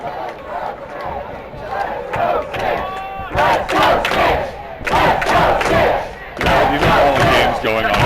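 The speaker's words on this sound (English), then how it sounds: "The crowd acknowledges." A crowd at a Quidditch World Cup final between University of Texas and Lone Star QC cheers and shouts in loud surging bursts, with brief dips between waves, as a commentator's voice runs over the noise.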